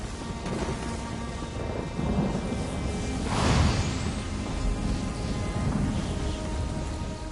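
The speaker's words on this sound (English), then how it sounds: "Have some lightning! You want more lightning? I have plenty to go around!" In Elder Scrolls Online, a lightning attack sets off rolling thunder that swells to a loud crack midway, layered over a steady rain-like hiss and rumble throughout.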